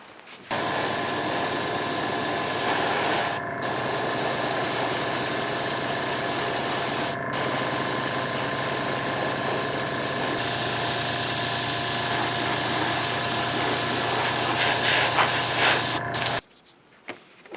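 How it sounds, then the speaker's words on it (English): Flat black spray paint hisses steadily from a can onto exposed areas of a retinal scanner prop, a loud continuous spray lasting about sixteen seconds with two brief pauses, then stopping abruptly. "we're going to spray these exposed areas with flat black"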